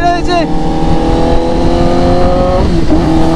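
A Kawasaki Z900 motorcycle engine revs loudly and up close, its harmonic pitch rising and falling through a sharp throttle blip and then settling, while people talk over it.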